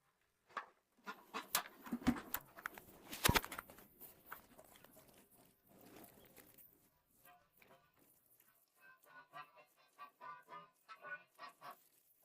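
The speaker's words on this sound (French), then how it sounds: "Les canards veulent aussi venir de dehors." Ducks call from outside, scattered quacks and honk-like cries, some near and loud, others fainter, in irregular bursts across a farmyard with goats and dogs nearby.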